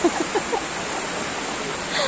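Sea waves at Digha beach give a continuous broadband wash of surf, with a few brief voices near the start before the steady roar carries on alone.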